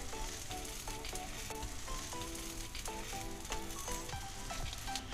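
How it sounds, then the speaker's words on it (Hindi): A buttered whole-wheat paneer kulcha cooking on a tawa, a continuous close sizzle under music with a steady melodic pattern, no talk. "दूसरी तरफ भी बटर लगा के हम कुलचे को पका लेंगे।"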